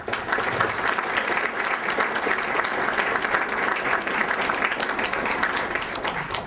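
Audience applause fills a hall at the Lamar University 2013 Merit Awards ceremony, a sustained, even wash of many hands clapping close by from start to finish.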